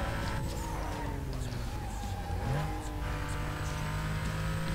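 Car engine revving and accelerating in the Need for Speed: Most Wanted racing game, steady and loud throughout with rising and falling pitch as the car corners, a brief dip around mid-clip.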